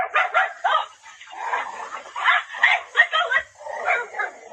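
A person imitates a dog with a string of yips and woofs, barking in quick, uneven bursts over about four seconds, close and fairly loud with a thin, broadcast-like tone.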